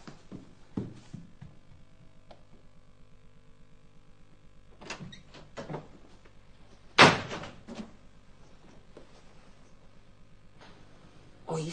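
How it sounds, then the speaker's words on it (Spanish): Inside a house in a Spanish-language telenovela, doors bang amid household clatter, with a few muffled knocks early on and one sharp, heavy slam near the middle that rings out loud, followed by lighter thuds; no voices heard. "¿Oíste el portazo?"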